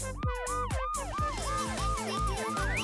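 A cartoon ambulance siren wails loud and close, its pitch sweeping up and down in a fast repeating cycle over a steady bed of sound with no voices.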